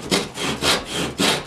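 A hand saw cuts through a 3/8 inch wooden dowel in a handtool woodworking shop, giving three steady back-and-forth rasping strokes, close and clear with no talking.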